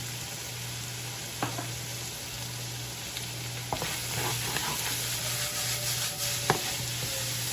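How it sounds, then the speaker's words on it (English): Onions, peppers and garlic sizzle steadily in a hot pan for enchiladas, a constant close hiss with a low hum beneath and occasional soft clicks of stirring. "I'm just gonna let these onions and peppers and garlic cook together."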